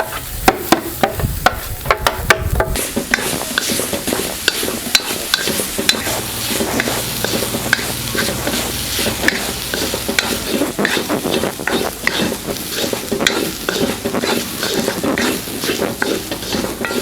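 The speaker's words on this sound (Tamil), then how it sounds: "இந்த நெய்யில் இந்த தேங்காய் சேர்த்து நல்லா வறுத்து எடுத்துக்கலாம்." Grated coconut roasting in ghee in a pan gives a constant close sizzle and fry, with brisk scraping stirs and occasional clinks of a spoon against metal.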